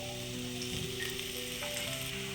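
Cumin, curry leaves and garlic frying in hot oil for a Maharashtrian masala shev bhaji: a steady, close crackling sizzle with faint tonal hum underneath, no voices.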